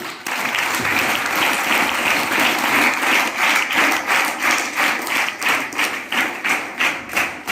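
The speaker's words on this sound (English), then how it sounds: "for his logical thinking, we should clap for him" Students in a classroom clap for a classmate, starting as a dense burst and settling into a loud, rhythmic unison beat toward the end.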